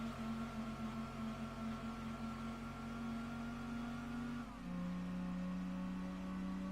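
Car engine in the video game Gran Turismo 2 revving steadily at high pitch, then dropping in tone as it shifts up a gear, a constant synthetic engine whine with no talk.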